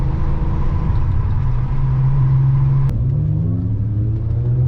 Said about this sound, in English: That skyline is so loud.